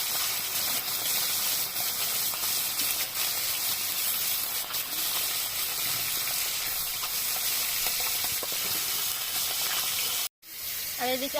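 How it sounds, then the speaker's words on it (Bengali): Koi fish frying in mustard oil in a kadai gives a loud, steady sizzle and hiss that continues for several seconds, then cuts out abruptly near the end. "এবার মাছে নুন হলুদ মাখিয়ে মাছটা ভেজে নেব।"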